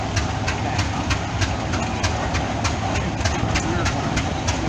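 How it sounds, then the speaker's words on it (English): A 1912 Rumley OilPull Model B tractor running in a parade, its engine pulsing in a fast, even beat over a dense, loud rumble. "this is the Rumley oil pull. It's a Model B"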